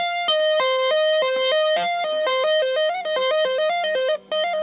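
An electric guitar plays a fast tapped sequence lick, a quick run of clear, sustained notes stepping up and down in a steady rhythm, close and loud with no talking.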